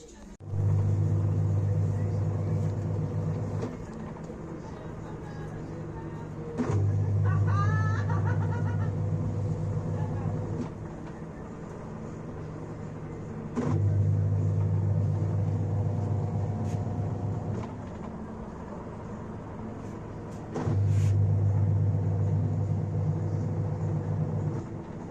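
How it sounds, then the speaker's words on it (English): Defy DTL160 top load washing machine, fitted with a newly replaced PCB, running a wash cycle: a low motor hum that repeats in long bursts separated by quieter pauses as the drum agitates, with occasional clicks and faint background voices. "You can see it's washing."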